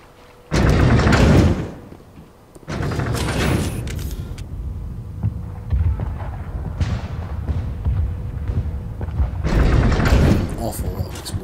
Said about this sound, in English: Awful lot of explosions.